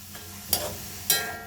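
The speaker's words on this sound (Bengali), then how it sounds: "এবার এটা আমি কষিয়ে নিই মশলা সহকারে" Young jackfruit being sautéed with turmeric and ginger paste, a soft low sizzle with two brisk stirring scrapes against the pan about half a second apart, close and brief, no talking.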